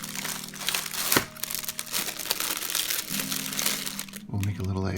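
Plastic packaging around a stack of planners crinkles and crackles up close in busy bursts, while a person talks over it, with some humming tones in the background.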